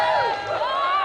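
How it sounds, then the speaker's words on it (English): Studio audience applause and cheering on the 1994 GamesMaster TV show, a brief steady wash of clapping and shouting crowd noise held at full level throughout. "Round of applause again then, Tim and Eddie."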